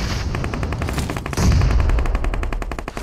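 Rapid automatic gunfire from bots in an online shooter, with dense bursts of evenly spaced shots that continue with no pause through the whole stretch, loud and close, no talk.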